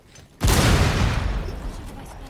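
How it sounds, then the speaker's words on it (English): A video game grenade explodes with a sudden loud boom, its heavy rumbling blast decaying over the following two seconds. "Oh, that's a grenade."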